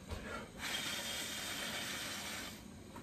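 A gun frame sits simmering in a dye bath, giving a steady close broadband hiss and bubbling seethe that holds for about two seconds, with quieter bubbling before and after.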